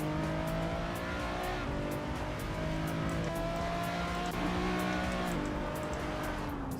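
In a racing video game, a race car engine drones on steadily at fairly low volume, its pitch climbing and then dropping with gear changes over a constant mechanical rumble.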